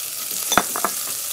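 Sliced garlic and cipollini onions crackle in hot oil, a steady close sizzle broken by a few quick pops and stirring clicks, no speech.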